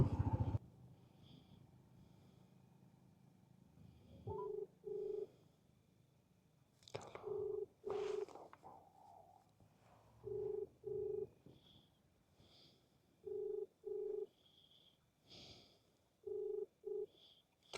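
A telephone rings during a construction site visit, giving short paired electronic tone bursts repeated at regular intervals over a quiet background, moderately loud and close.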